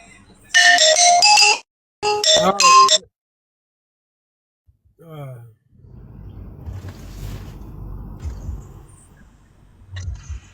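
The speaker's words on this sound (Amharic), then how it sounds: "ስልክ መጣብህ።" A mobile phone rings with two loud, close bursts of a melodic electronic ringtone. The ringing stops, and quieter rustling and background noise follow.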